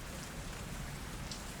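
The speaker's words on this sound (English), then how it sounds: "I arrived on a stormy night, the rain pouring down in sheets as I approached the looming structure." Heavy rain pours down on a stormy night, a dense, steady hiss of drops with no breaks, fairly soft overall.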